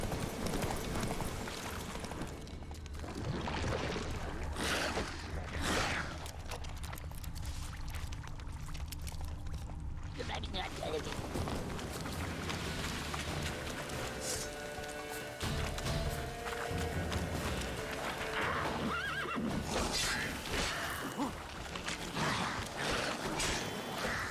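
Hoofbeats of the horse Roach in the video game The Witcher 3, a rapid clip-clop with busy game sounds underneath, continuing through most of the stretch with brief quieter gaps.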